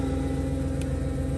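A Porsche V8 idling on its first start-up, a steady low, even rumble with a faint tick partway through, close and with no voices.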